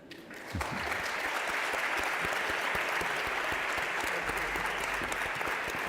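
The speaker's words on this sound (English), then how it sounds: "a huge round of applause just one more time for Mano" An awards-ceremony audience in Copenhagen breaks into loud, sustained applause after a brief quieter moment, dense clapping filling the hall without pause.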